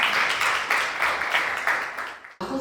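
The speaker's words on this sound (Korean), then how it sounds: "박수로 맞이해 주세요" Audience applause welcoming a presenter at an academic dance studies symposium in Korea, sustained dense clapping that fills the room for over two seconds before cutting off abruptly.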